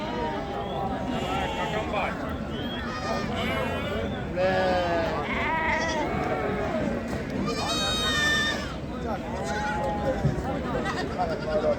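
Several goats and kids call out at a livestock market in Ganja, their quavering bleats overlapping one after another throughout, close and fairly loud over a continuous hum of market babble.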